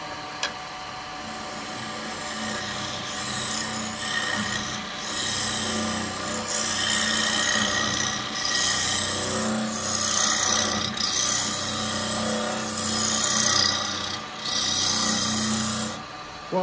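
Wood lathe turning a workpiece with a carbide tool, a continuous rough scraping hiss over a low motor hum, steady and close for the whole stretch with slight swells in loudness.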